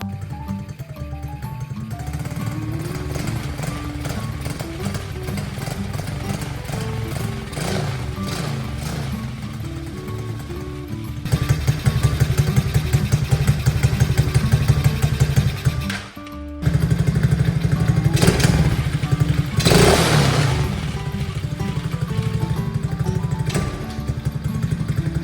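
Chinese four-wheeler ATV engine idling with a loud steady rumble, then revving up in surges with a brief drop, recorded close by for about twenty-five seconds with no talk.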